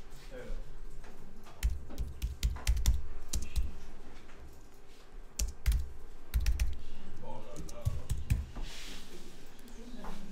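Quick bursts of clicky key presses on a computer keyboard entering shortcuts such as copy and paste, irregular clusters of taps at close range, with a person talking over them.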